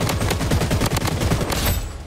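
Rapid automatic gunfire in the shooter video game Blood Strike, a steady stream of close, punchy shots firing in quick succession for about two seconds, loud and without talk.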